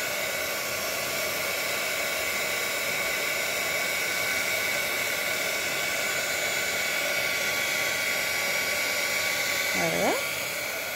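Heat tool blowing hot air to melt embossing powder, a steady loud whooshing hum with a whine that holds throughout, close and continuous, with a brief shift near the end.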